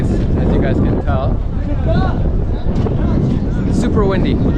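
Strong gusting wind at the pyramids buffets the microphone with heavy low rumble throughout, while faint voices sound underneath.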